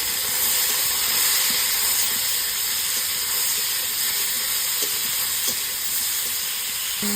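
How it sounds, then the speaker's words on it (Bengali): Eggplant and potatoes fry in a small amount of oil, making a steady loud hiss close by with a few faint clicks and no speech. "ভাজা ভাজা করে পরে বটবটি আর আলুটা দিয়ে দেব।"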